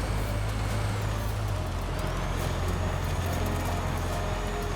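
A 2023 Hyundai Ioniq 5 N sliding along a dirt rally trail in Forza Horizon 5, a steady loud electric whine with low rumble and tire noise, no speech.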